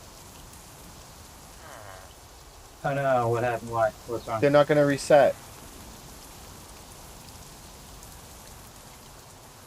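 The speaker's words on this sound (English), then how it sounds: "it's raining." Steady rain falls in Minecraft, a soft continuous hiss running through the whole stretch, with a short burst of talk near the middle layered over it.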